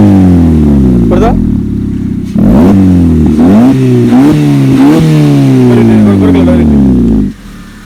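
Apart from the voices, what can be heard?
Maruti Ciaz engine revving with valvetronic exhaust cutout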